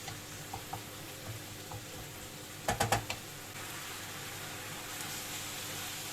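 Meat and small vegetables sizzling in a pan, a faint steady hiss with a brief cluster of sharp clatters as the pan is stirred partway through.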